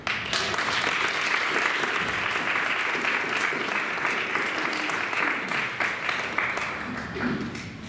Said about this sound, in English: let's give a round of applause for our first soloist, Ms. Blalack.